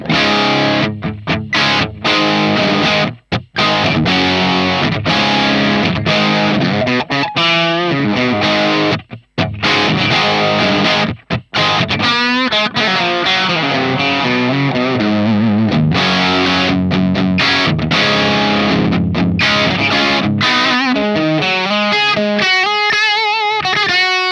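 Crunchy overdriven electric guitar through a Hotone Ampero 2 capture of a handwired ROOTS RA-2230 amp plays chords and single-note runs with brief pauses, loud and continuous for the whole stretch.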